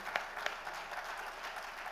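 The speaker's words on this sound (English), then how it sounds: "Please keep the applause coming as we unveil the supplement." A retail awards audience applauds at a supplement launch, faint and distant, a soft continuous patter of many hands with a few sharper claps near the start.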